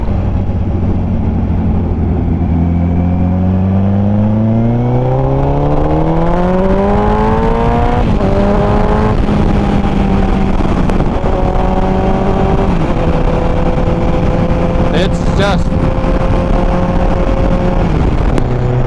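A Kawasaki ZX-14R motorcycle is ridden hard, its engine droning loud and close as the pitch climbs steadily through the gears, with clear shifts and renewed pulls, and no voices.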